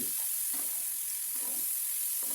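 Bitter gourd and tomato fry in a hot pan, giving off a constant bright sizzle, with a few soft stirring scrapes breaking through at intervals.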